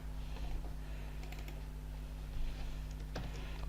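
Keys clatter in an irregular stream as code is typed on a computer keyboard, a steady low hum underneath and a slightly louder burst of strokes near the end.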